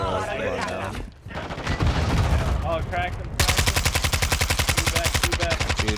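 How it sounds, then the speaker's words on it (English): Rapid automatic gunfire in Call of Duty Warzone 2.0 Resurgence, loud and close, starting with scattered shots and then a steady, rhythmic burst of rounds filling the second half while voices talk over the first part. "I'm getting shot from everywhere."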